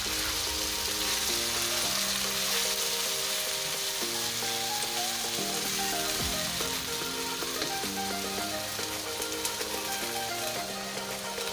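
Fresh fenugreek leaves go into a pan of hot oil with chillies for aloo methi and cook in their own moisture, giving a steady, dense sizzle throughout with soft background music underneath.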